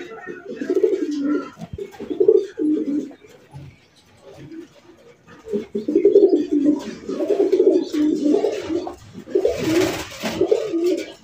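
Rasgolla and Giribaj pigeons, including colored Rasgolla birds with chicks, cooing in a loft, repeated low throaty coos in several bursts, close and fairly loud, with someone talking intermittently over them.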